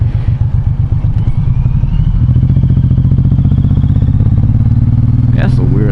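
A Suzuki M90 or M109R cruiser motorcycle being ridden, its loud, close engine thrumming steadily and rising in pitch partway through as it accelerates.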